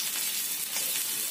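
A piece of surmai fish fries in a pan with a bright, dense sizzle that stays close and continuous for a brief moment.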